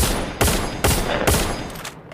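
Rapid gunfire crackles continuously in a shooting video game, loud and dense, with three sharper bursts standing out in a quick sequence.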